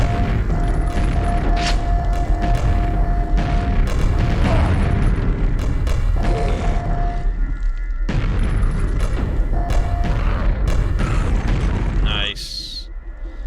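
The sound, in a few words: grenade launcher firing and exploding in the video game Quake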